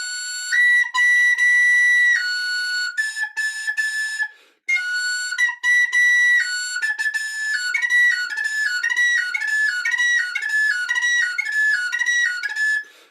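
Tin whistle plays the Connaughtman's Rambles jig using triple tonguing: bright, clean high notes in quick triplet figures with crisp articulations, loud and close, played alone with a short pause midway.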